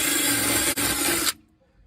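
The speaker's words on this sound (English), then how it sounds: "use a metal brush, or in my case, a metal brush and a drill" A drill spins a metal wire brush against a car's front suspension to clean the bushing seats on a 2012 Range Rover Sport SDV6, giving a steady harsh scrubbing whir that cuts off abruptly.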